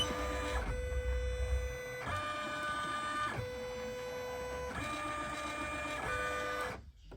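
An embroidery machine runs a trace of the design outline, moving the hoop in a steady mechanical whir with rhythmic motor pitch shifts every second or so, loud and close, before it stops.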